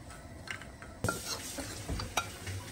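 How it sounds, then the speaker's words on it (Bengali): Poppy seeds dry roast in a pan while a spoon stirs them, with soft scraping and clinking strokes and one sharper knock against the metal, close and fairly quiet. "ছোট চামচে 6 চামচ মতন এখানে পোস্ত নিয়েছে। ভালো করে একটু ড্রাই রোস্ট করে নিচ্ছে।"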